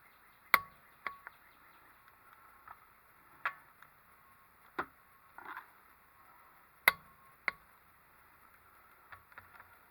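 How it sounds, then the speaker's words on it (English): Faint, sharp mechanical clicks of a torque wrench at irregular intervals, several isolated snaps over a quiet background hum, with no talking. "when you hear that nice click, that means you've actually torqued them on there properly."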